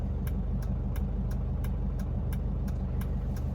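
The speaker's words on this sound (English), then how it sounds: "This car is such an excellent California car because 1977 did not have smog requirements for diesel engines." A 1977 Mercedes-Benz 240D W123 diesel car drives along a road near Oakland, its engine thrumming steadily and close, with a regular clacking tick repeating about three times per second over the hum.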